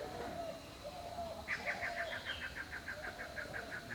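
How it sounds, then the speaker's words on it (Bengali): Pigeon-like birds in a village yard give a quick, evenly spaced run of short repeated calls, fairly close and clear over a steady outdoor background, with no talking. "এবারে বন্ধুরা দুটো পাখি আছে"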